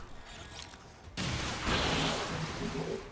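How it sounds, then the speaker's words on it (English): A Shred Storm Cannon fires in the XCOM game, a sudden loud blast that swells into a sustained roaring rumble and crackle that fades out. "I'm going to use the Shred Storm Cannon."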